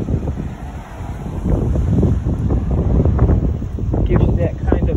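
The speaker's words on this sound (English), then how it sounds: "It's really windy out here today." Strong wind outdoors by Humboldt Bay in Eureka, California, roars across the microphone as a steady, loud rumbling buffet that gusts a little stronger partway through, with a faint voice underneath.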